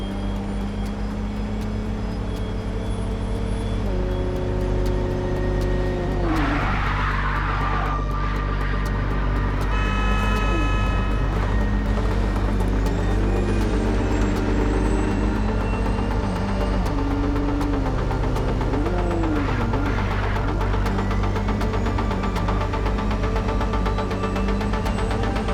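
Car driven in the video game MindsEye, a loud continuous engine drone with shifting pitch as it speeds up and slows, and no speech is heard.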